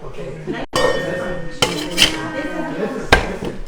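A lid goes back onto a cocktail container with a few sharp clinks and taps, close by, separated by short quiet gaps.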